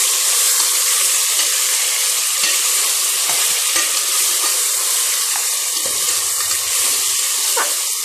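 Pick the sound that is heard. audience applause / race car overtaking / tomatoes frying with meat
tomatoes frying with meat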